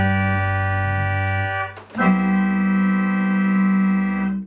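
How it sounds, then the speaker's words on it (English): A Standaart theatre organ tuba stop, a Gottfried tuba rank, sounds sustained reedy notes, with a low held tone giving way after a short break to a steady chord that rings on alone. "Then we have the Standaart tuba"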